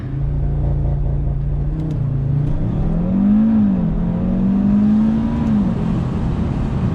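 An Audi RS3 with Stage 1+ ECU and Stage 2 TCU tunes revs up hard, pitch climbing through a couple of gear shifts, loud and close with a steady rumble underneath.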